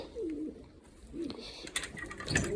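Pigeons coo in a pigeon loft holding squabs, low rolling calls close by, followed by some rustling and shuffling toward the end.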